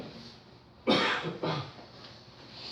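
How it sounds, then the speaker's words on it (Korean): Two quick coughs from a student in a classroom, the first louder, a brief harsh burst followed by a weaker second one, heard nearby in a quiet room. "누가 기침하노? 아프나?"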